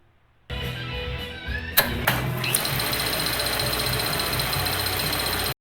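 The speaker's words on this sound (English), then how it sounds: "Check out my Atlas 618 lathe" A restored Atlas 618 metal lathe starting up: a brief silence, then a steady close mechanical whir with a couple of sharp clanks as it engages, settling into a continuous even hum.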